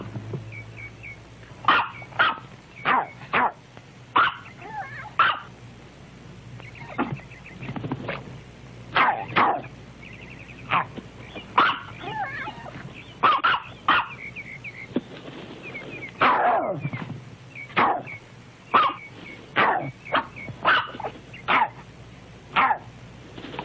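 A dog in a 1974 movie trailer barks again and again, sharp, separate barks in uneven bursts with short yips and whimpers between them, loud and close over a low, steady background hum.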